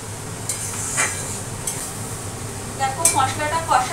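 Spice masala stir-fries in hot oil in a pan, a soft continuous sizzle broken by a few scraping stirs of a utensil against the pan, close and moderately loud.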